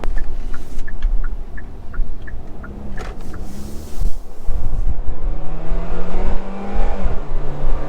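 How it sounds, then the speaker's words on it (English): A 2021 Kia Cerato GT Line is floored at full throttle in normal mode, its engine note droning and climbing steadily in pitch over road and tire noise, with a short rhythmic ticking early on. "So that was me flooring the car in normal mode."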